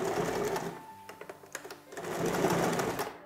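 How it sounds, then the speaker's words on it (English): A lock-stitch sewing machine runs a seam along the outside of a fabric edge tucked in about 3/8 inch, whirring close and continuous with a brief slowdown in the middle before picking up speed again. "and I'm sewing on the outside."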